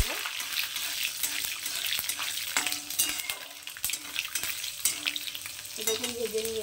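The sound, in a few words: curry leaves and green chillies frying in oil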